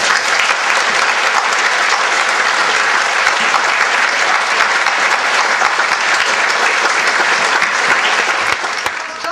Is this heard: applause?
yes